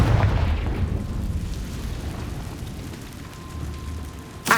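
A Confringo blasting spell erupts in Hogwarts Legacy on PS5, a dense, rumbling explosive roar filling the whole stretch before a sharp burst right at the end.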